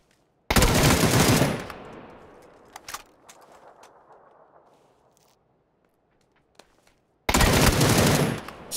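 Automatic weapon fire in PUBG, two loud sustained bursts at the start and end with a few single shots and a fading echo between them, and no speech over it.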